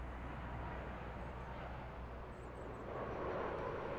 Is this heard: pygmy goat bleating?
no